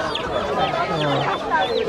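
Native roosters cluck and call up close in a busy rural poultry market, with murmuring voices in the background.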